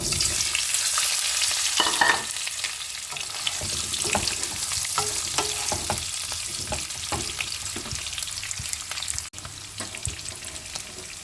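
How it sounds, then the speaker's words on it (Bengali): Boiled potatoes fry in a kadai with a steady, close sizzle, punctuated by the scrape and clack of a spatula stirring them, with no talking. "যে আলুগুলো সেদ্ধ করে রেখেছিলাম ওগুলো ভেজে নেব"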